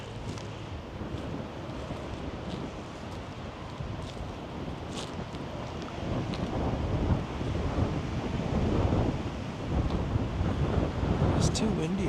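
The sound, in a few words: strong wind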